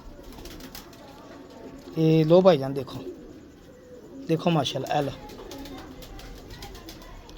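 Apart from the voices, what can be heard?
pigeons cooing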